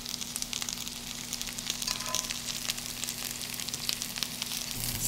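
Spice powders with a pinch of asafoetida sauté in a pan for a spinach and yellow lentil dish, giving a quiet, continuous crackling sizzle with scattered sharp pops and a low steady hum beneath.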